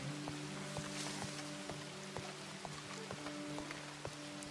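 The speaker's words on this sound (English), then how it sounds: "let me get out of this rain." Rain falling in the Red Dead Redemption video game, a faint, steady patter with scattered drop ticks over a low constant hum, with no speech.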